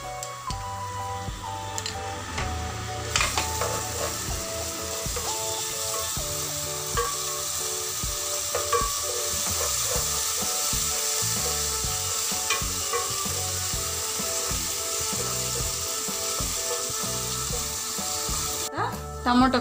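Ginger garlic paste sizzles steadily in a hot pan while being stirred for a jackfruit seed curry, a continuous frying hiss with scraping, clattering stir strokes throughout and no talking.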